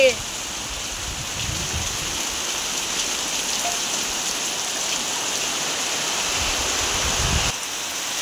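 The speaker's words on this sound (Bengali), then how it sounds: "কি জোরে বৃষ্টি হচ্ছে, ঝড়ও হচ্ছে সেরকম জোরে" Heavy rain pours down during a storm, a dense, even hiss of drops drumming on surfaces that stays steady and close, with a voice faintly audible underneath.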